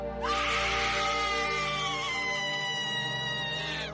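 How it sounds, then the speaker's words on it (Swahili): An inhuman, terrifying scream used as a horror audio drama sound effect: one long, loud, wailing shriek that holds steady for nearly four seconds with no other sound. "Kelele ya kutisha, isiyo ya kibinadamu, ilitoka kooni mwa Saladini."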